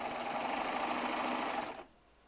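A serger with a built-in knife stitches quilt pieces, a quick steady mechanical whirring hum heard up close that cuts off abruptly, with no talking.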